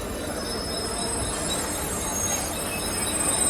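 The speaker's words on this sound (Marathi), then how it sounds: "हा बघा ट्रेन लागले" A Mumbai local train pulls in with a continuous metallic wheel squeal and rumbling rail noise, moderately loud and steady throughout.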